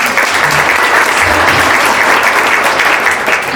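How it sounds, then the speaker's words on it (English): A crowd at a children's museum fundraising event claps steadily and loudly throughout, a dense continuous wash of applause with no voices over it. "We applaud you"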